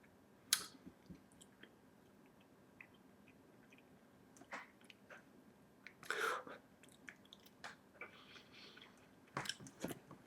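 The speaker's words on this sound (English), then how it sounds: "Suppose you could chew it and eat it like I'm doing right now." Someone chewing Beaver Chew mint leaf non-tobacco dip, with quiet, sparse wet clicks and smacks that come in irregular bursts close to the mouth in a mostly hushed room.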